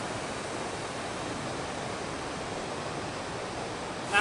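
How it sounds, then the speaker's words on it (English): Fast-flowing Limahuli stream in Hawaii, heard from right beside it as a steady, loud, broadband rush of water that fills the whole clip with no speech. "I'm literally right next to the main Limahuli stream."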